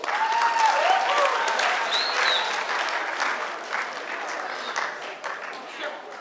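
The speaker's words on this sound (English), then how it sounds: "Give yourself a round of applause." An audience at a freshmen orientation applauds in a dense, sustained burst of clapping that gradually thins and fades, with a few voices calling out over it.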